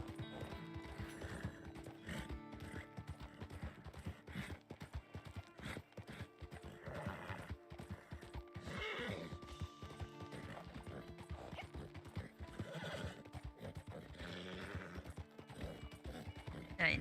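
Horse hooves clip-clop at a steady gallop in Red Dead Online while the animal whinnies and neighs now and then, close and loud over continuous game ambience.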